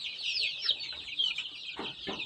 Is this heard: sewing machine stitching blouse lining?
no